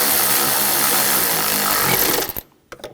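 Power tool tightening valve cover bolts on a 2007-2013 BMW X5 3.0L inline-six, a loud continuous whirring drone that cuts off abruptly near the end, followed by a few faint clicks.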